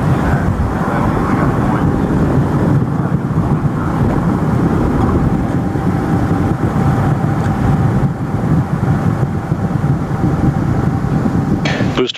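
Space Shuttle Atlantis ascending after launch, heard as a continuous broad rumbling roar with wind-like noise, steady and sustained, with faint voice-loop chatter underneath.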